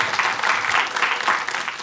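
An audience at a comedy show claps warmly and continuously for a woman named Bota as she introduces herself, a full, close round of applause that holds steady throughout.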